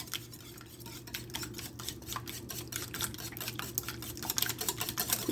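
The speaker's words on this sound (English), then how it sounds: "to this stick of melted butter, I'm going to be adding 3 egg yolks. And we're going to whisk that all in." A whisk clinks rapidly against a bowl as egg yolks are beaten into melted butter for a coconut custard pie, a steady, fairly quiet metallic tapping rhythm that grows slightly louder toward the end.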